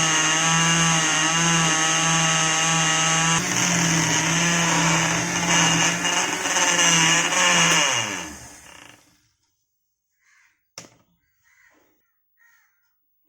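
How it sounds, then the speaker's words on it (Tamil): A mixer grinder blends bananas and milk into a milkshake with a loud, steady, high-pitched motor whine for about eight seconds, then winds down to near silence broken by a few faint clinks. "இப்போ ஜாரை வந்து மிக்சியில் வச்சு அடிக்க ஸ்டார்ட் பண்ணலாம்."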